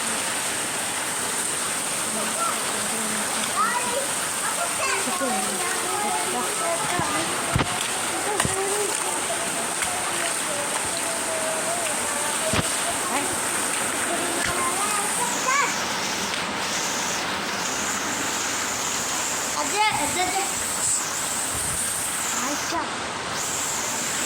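Steady heavy rain with floodwater flowing and splashing around a flooded house, a constant loud wash throughout while a person talks over it.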